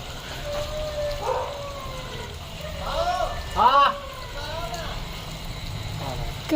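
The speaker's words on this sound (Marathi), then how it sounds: "मंडळी रस्त्यावर कुत्रे ओरडतात" Street dogs at night give a few rising howls and yelps, one louder cluster near the middle, heard faintly over a person talking.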